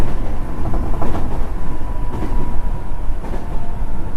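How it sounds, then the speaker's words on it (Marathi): A train carries passengers on a trip to Pune, heard as a loud, steady rumble and rattle of rolling carriages from inside, continuous for the whole stretch, with no talking. "ट्रेन मध्ये बसले बघा."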